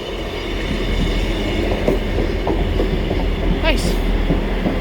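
A train arriving at Morley station platform, a loud steady rumble of wheels and carriages close by, with a brief squeal of wheels near the end.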